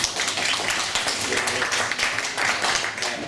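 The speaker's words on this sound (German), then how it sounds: "Können wir einen kleinen Applaus für Frau Sutter machen?" A small audience at a talk on social media and revenue management gives a brief, steady round of applause for a woman called up to the front, a dense patter of claps lasting a few seconds.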